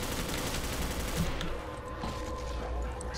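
Shotgun and other gunfire in a Call of Duty zombies video game on the Moon map, a dense continuous barrage of shots filling the whole stretch, close and loud.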